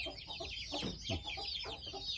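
Farmyard chickens, ducks and fowl cluck and chatter in a steady, close cluster, with several overlapping calls and a couple of louder squawks rising above the flock over a couple of seconds.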